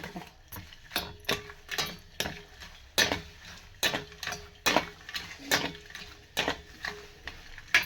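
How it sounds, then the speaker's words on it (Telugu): A spoon stirs jaggery in a pan to melt it for a wheat-flour cake, giving repeated close scraping and clinking strokes in an uneven rhythm, with no talking. "వేసేసి బాగా కలిపేస్తాము ఎందుకంటే బెల్లం కరగాలి కదా"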